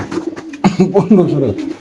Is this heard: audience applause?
no